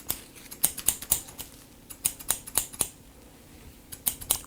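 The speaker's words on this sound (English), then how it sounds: "Cut with the scissor comb technique." Scissors snipping hair during a men's haircut, worked with the scissor-over-comb technique: sharp, close metallic clicks that come in quick clusters of snips separated by short pauses, with no talking.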